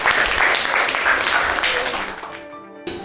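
A high school biology class in Medan applauds a student group after their presentation, with loud, dense clapping that thins out and fades over a few seconds.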